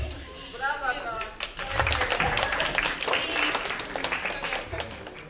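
Audience applause rises into a dense burst of clapping that carries on steadily at moderate volume, with a voice briefly heard at the start before the clapping takes over.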